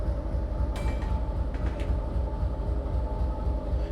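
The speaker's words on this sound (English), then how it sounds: "I'm going to wind up the dynamics a bit more and get the train slowed down" A Chessie U30C diesel locomotive hauling a train in Train Simulator slows on dynamic brakes, with a steady heavy rumble and drone, faint rail clicks and brief squeals over the continuous roar.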